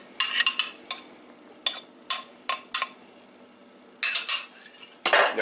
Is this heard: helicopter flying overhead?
no